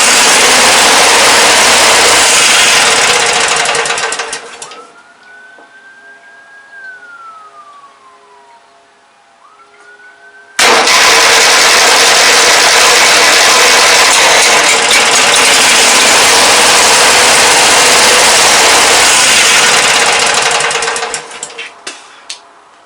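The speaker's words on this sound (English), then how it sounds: "But it sounds like a healthy engine." A late-1990s Murray Select lawn tractor with a 17hp Briggs & Stratton opposed-twin engine and a worn carburetor diaphragm runs loud and close, drops to a quieter stretch with a faint rising whine for several seconds, then roars back steadily.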